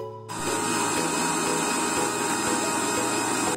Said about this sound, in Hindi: सेकंड टाइम भी मैंने इसे ग्राइंड कर लिया।